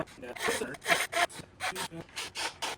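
A hand saw cuts small wooden pieces for a jewelry box, making close, rhythmic rasping strokes in quick bursts with short pauses between them.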